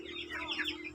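A native chicken broodhen clucks softly nearby, a short run of quiet, warbling clucks over a low background hum.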